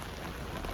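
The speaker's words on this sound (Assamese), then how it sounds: "এয়া বৰষুণ মানে ইমান বেছিকৈ ডাঙৰকৈ নাই দিয়া অলপকৈ দি আছে" Light rain falling at night on a winter evening, a steady soft patter of drops spread evenly through the short stretch, fairly quiet and with no voices over it.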